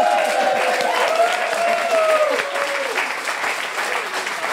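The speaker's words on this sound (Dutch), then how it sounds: "En je krijgt nog een daverend applaus natuurlijk hier." Thunderous applause from the audience at a Singing Peel en Maas sing-off event, loud dense clapping filling the room with a voice singing or calling over it, fading slightly toward the end.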